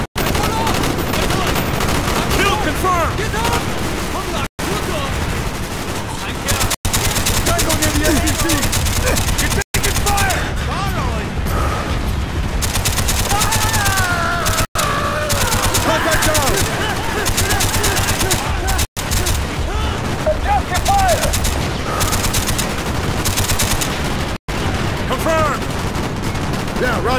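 Dense, loud gunfire in Call of Duty: Black Ops, continuous automatic bursts and explosions with shouted voices over the top, broken by a few brief cuts to silence.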